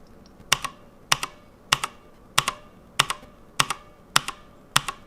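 Slow, evenly spaced keystrokes on a Redragon Draconic K530 60% mechanical keyboard, each press a sharp double click with a bright metallic case ping ringing after it, close and clear.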